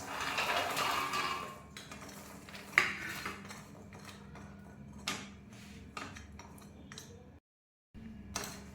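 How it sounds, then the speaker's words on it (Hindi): Shakarpare stirred in sugar syrup in a pan, soft scraping and occasional metallic clinks of a spoon against the pan, quiet and close, with a brief silent gap near the end. "अब सारे शक्करपारे इस सिरप में मैं डाल देती हूँ"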